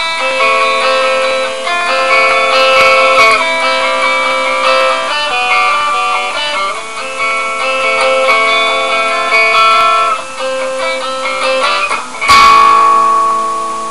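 A guitar strums a riff of ringing barred chords, steady and fairly loud, with a sharp accented strum near the end and no talking.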